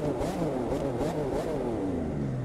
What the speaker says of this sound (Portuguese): quando estoura o escapamento